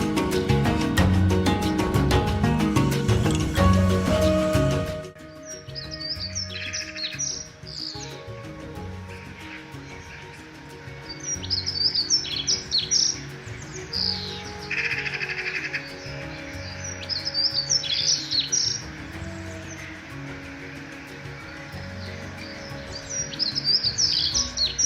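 Black-winged stilts call repeatedly near their nesting ground in open country, sharp chirping notes in intermittent bursts over a steady outdoor background, following a short loud stretch of other sound at the start.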